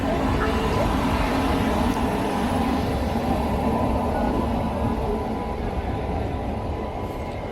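The Mangala Express, the Mangalore–Chennai Central train, arriving at a station in Kerala, a loud, continuous rolling rumble of rail wagons close by, slowly easing, with indistinct voices in the background.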